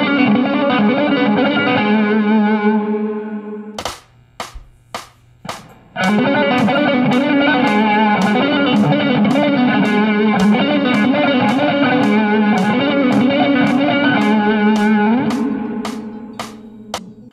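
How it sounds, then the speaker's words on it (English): Bluesy overdriven electric guitar lick, full of slides and pull-offs, with a fluttery sustained phrase, a short run of sharp muted staccato hits, then a long distorted passage alone. "It's very bluesy, and it's kind of like this fluttery sound, a lot of slides and a lot of pull-offs."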